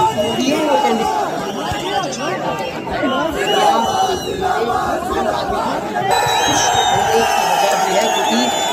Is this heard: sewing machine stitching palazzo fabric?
no